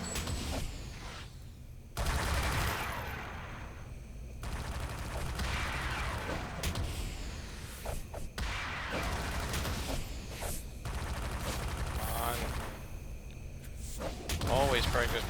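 An auto turret fires rapid, dense bursts in a City of Heroes battle, mixed with whooshes and impacts. The barrage is steady and continuous, with a voice faintly underneath.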